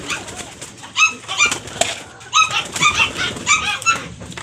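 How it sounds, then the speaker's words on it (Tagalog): Young racing pigeons being fed at a loft, their soft coos and wing flaps breaking out in short repeated bursts, close by with no voices. "Pakainin na natin itong mga ibon natin."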